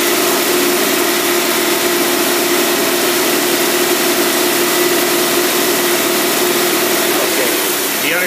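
Cadillac engine with a flooding carburetor runs close and loud, a steady rough drone with uneven idle throughout, while someone talks over it.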